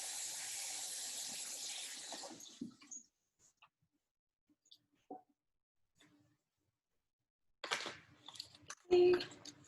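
Tap water runs loudly for about three seconds while fruit for a smoothie bowl is washed. The flow then cuts off, leaving near-silence broken by a few soft clicks and handling noises at the end.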